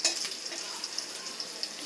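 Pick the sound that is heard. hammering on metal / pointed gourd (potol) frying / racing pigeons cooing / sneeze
pointed gourd (potol) frying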